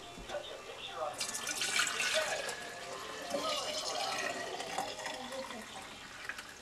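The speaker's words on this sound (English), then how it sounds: "take our 120 degree milk and pour it into 2-quart mason jars" Warm 120-degree milk pours into 2-quart mason jars, a soft, uneven liquid splash and gurgle that swells and fades in waves, fairly quiet and close.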